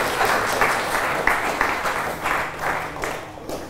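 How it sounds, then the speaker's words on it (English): Wedding guests applauding during the ceremony, a dense, continuous wash of clapping from a gathered crowd that holds steady throughout at fairly close range, with faint voices mixed in. "Big round of applause, I think."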